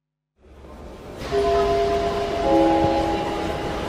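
At a railway station platform, a train rolls in with a rising rumble and steady tonal squeal or hum over the station ambience, no voices.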